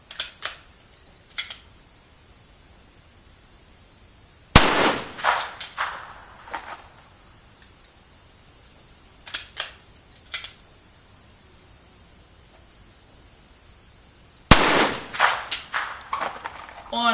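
A Chipmunk .22LR pistol fired at a target 25 yards away outdoors: several sharp single cracks spaced seconds apart, each with a brief ringing tail, over a steady high insect drone.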